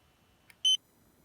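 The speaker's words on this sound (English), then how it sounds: "So here, the beeper too." Beeper on a Vortex Mojo-230 racing drone gives one brief, sharp electronic beep after a tiny click, close and clear in otherwise quiet surroundings.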